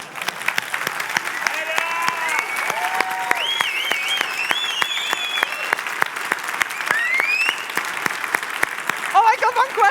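Sustained audience applause fills a conference hall after a main-stage talk, dense and steady for about ten seconds, with whoops and shouted voices rising over the clapping and a few people speaking near the end.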